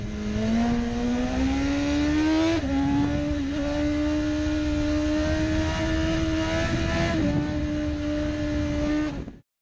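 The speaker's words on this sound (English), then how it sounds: "This BMW motorcycle features a 999cc engine producing up to 193 horsepower" A BMW 999cc sports motorcycle engine revs loud and close, a sustained high-pitched howl that climbs, dips briefly and holds, then cuts off abruptly at the end.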